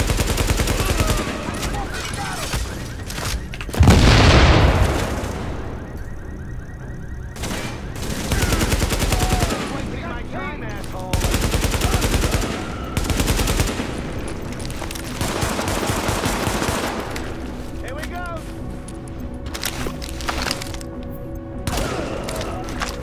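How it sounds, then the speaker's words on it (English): AK rifle gunfire in The Division, a loud burst of rapid automatic shots with a heavy close-range volley, then further stretches of repeated shooting and game noise running throughout. "This AK is great damage, but way too much recoil"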